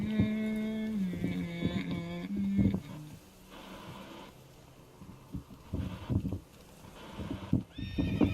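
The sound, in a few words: Roach the horse neighing and clip-clopping in video game The Witcher 3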